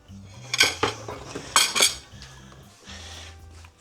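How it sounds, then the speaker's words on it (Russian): Potatoes tipped into a pot of chicken soup with rice, several bright clinks and clatters of pieces and utensil against the pot in two short bursts, close and fairly loud, followed by quieter handling. "И сюда же сейчас добавляю картошку теперь."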